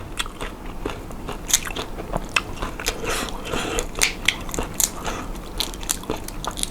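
Crunchy biting and chewing of baked shrimp with glass noodles, close to the mic, with repeated crisp bites and smacks throughout.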